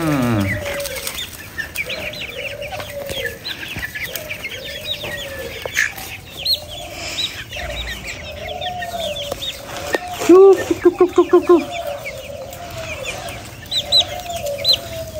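Serama chickens cluck and call repeatedly at close range, with bursts of wing flapping and a short run of rhythmic clucks partway through, amid other farmyard bird sounds.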